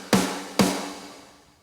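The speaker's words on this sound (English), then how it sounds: "if you listen to the whole snare, it kind of sounds like this" A layered metal snare drum one-shot sample is struck twice in quick succession, each hit punchy and bright with a body that rings out and decays, loud and alone.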